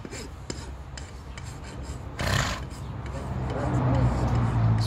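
Coarse rasping strokes scrape steadily over a hard surface, close by, with a louder burst midway and low background rumble.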